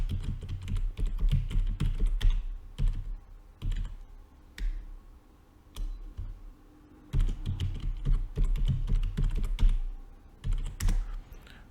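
Keys on a computer keyboard are tapped in quick rattling bursts while a password is entered, close and fairly quiet, with short pauses between runs of keystrokes.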